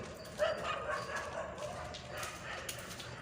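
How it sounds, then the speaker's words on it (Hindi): Dogs bark and yip at a distance at night, faint and intermittent, with people talking nearby. "कुत्ते कुछ ज़्यादा भौंक रहे हैं।"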